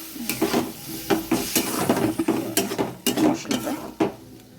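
Ground masala of cumin, coriander, green chilli and ginger with jaggery sizzles in a pan after a splash of water, with repeated scraping stirs and clanks of a spatula against metal, close and busy.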